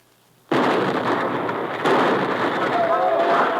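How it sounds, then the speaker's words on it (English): Radio drama effect of two grenades exploding beside a fence: a sudden loud roaring blast, then a second surge of rumbling noise that sustains to the end, close and dense. "uncorks both grenades and lobs them down beside the fence"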